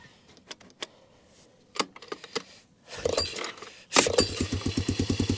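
An old three-wheeler with no choke started on its second pull, a few sharp mechanical clicks and two pull-cord rips, then the small engine catches and settles into a close, rapid, pulsing idle.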